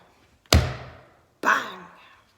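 A door slams shut twice in a storybook reading, each a loud, close bang with a short decaying tail, the second hit about a second after the first.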